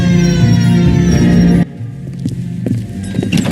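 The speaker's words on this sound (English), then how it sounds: "Hit the siren." Police car siren in the video game L.A. Noire, a loud, steady tonal blare that cuts off abruptly after under two seconds, leaving quieter background noise.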